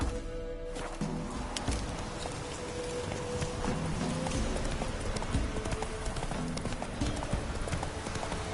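Roach the horse trots in The Witcher 3, a steady, fairly close clip-clop of hooves that runs throughout over a dense layer of game ambience.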